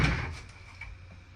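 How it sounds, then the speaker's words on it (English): A drawer slides out of built-in storage in a tiny house, a single short wooden scrape and knock that fades within about a second. "to be able to pull the drawers out."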